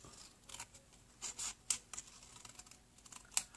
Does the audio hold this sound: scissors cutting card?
yes